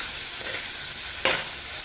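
Garlic and onion seasoned with salt and pepper sautéing in a pan for pork ribs with taro and black beans, a loud steady sizzle with a few scraping stir strokes.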